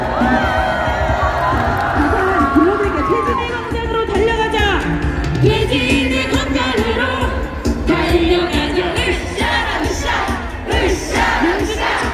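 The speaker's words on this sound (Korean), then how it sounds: "서로에게 박수 부탁드리겠습니다" A large crowd at an outdoor political rally cheers, whoops and shouts loudly and continuously, with scattered yelling voices over a dense roar.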